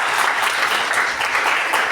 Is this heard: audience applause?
yes